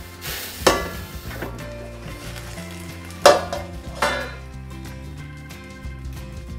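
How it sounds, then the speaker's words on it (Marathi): A lid clanks as it is lifted off a pan of ghavan rice-flour crepes cooking, sharp metallic knocks standing out over a soft continuous sizzle, close and clear, no one talking. "आपण आता झाकण काढून चेक करून घेऊया।"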